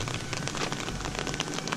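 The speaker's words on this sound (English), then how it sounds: "a little bit of rain picking up again" Rain patters steadily on the ground and foliage during a walk with dogs, a dense close hiss with scattered drop taps.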